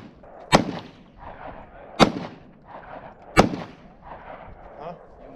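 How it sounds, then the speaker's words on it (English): Three sharp, loud gunshots at an outdoor shooting range, evenly spaced about a second and a half apart, each followed by a brief rumbling echo and low background murmur. "It's so good out here to be just shooting."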